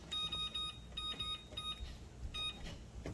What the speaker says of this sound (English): Set a timer for about 15 minutes.